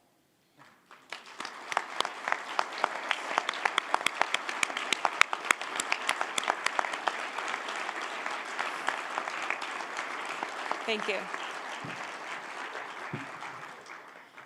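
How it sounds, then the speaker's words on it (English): A gathered crowd at a celebration-of-life memorial bursts into applause that starts after a brief silence, building quickly into sustained, crisp clapping from many hands, with a short spoken thanks heard near the end. "for a round of applause"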